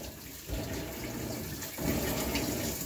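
Water gushing steadily into a Maytag top-loading washing machine with a glass lid and no agitator, a continuous rushing fill that swells louder partway through, heard close and without talk.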